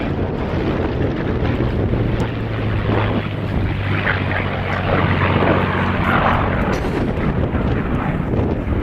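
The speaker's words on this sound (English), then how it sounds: "Beautiful aileron roll, demonstrating both the aesthetic delight of the Spitfire" A Spitfire with a roughly 1700-horsepower engine flies aerobatics, including aileron and barrel rolls, at an air display at Bicester. Its piston engine drones steadily for several seconds, with the pitch rising and falling and wind buffeting the microphone.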